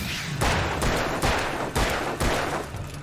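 Rapid bursts of gunfire from the action game Alan Wake with infinite ammo, loud and dense, shots rolling together into a continuous barrage with heavy low booms.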